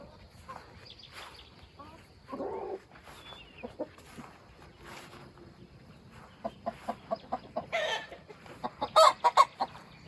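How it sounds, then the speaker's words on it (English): Backyard hens clucking and calling as two flocks are mixed together, with short repeated clucks that grow louder and denser toward the end, some brief human speech in between. "we got our chicken flocks blended today. So the happy hens have now joined the main flock."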